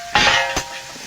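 Onion, garlic and greens fry in a pan, giving a brief burst of bright sizzling hiss followed by a single sharp clack, close by with no talking.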